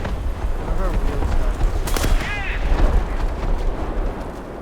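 Tank ammo rack exploding in War Thunder: a loud, sustained rumbling blast with sharp cracks over continuous battle noise, while someone talks briefly.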